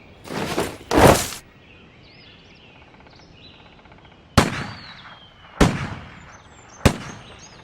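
A 21-gun cannon salute on Ross Island in the Andaman and Nicobar Islands: five deep booming blasts, two close together at the start and three more spaced a second or so apart, each fading into a quiet outdoor hush.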